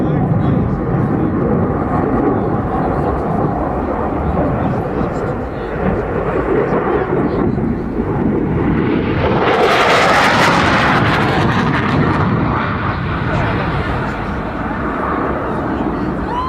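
Belgian Air Force F-16 fighter jet flying past at the RIAT 2014 airshow, a loud continuous roar that swells to a peak around the pass and then trails off as a steady rumble.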